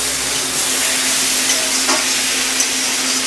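Pumpkin greens cook in a pan with a continuous loud sizzle and an occasional stirring scrape over a steady low hum.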